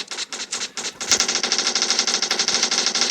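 Rapid bursts of automatic gunfire in a video game, short volleys at first and then one sustained rattling stream, loud and close with no voices.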